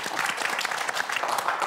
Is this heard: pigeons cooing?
no